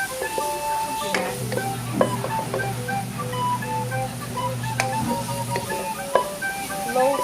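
Pork with chili and ginger stir-fried in a pan for pinakbet, a steady close sizzle with scattered clinks and scrapes of the utensil against the pan throughout.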